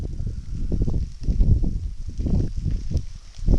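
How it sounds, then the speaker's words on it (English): Wind gusts from Hurricane Irene in upstate New York buffet the microphone in uneven, low rumbling bursts that swell and ease for a few seconds, with no one talking. "And here comes a nice little gust."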